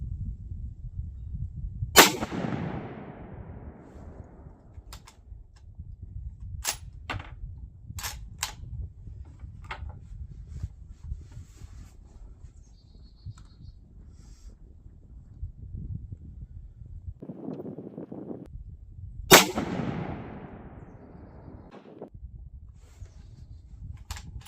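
Two loud, sharp rifle shots from a Savage Axis chambered in 6.5 Creedmoor, spaced far apart with ringing decay after each, over a quiet outdoor background with small clicks and handling noises between them.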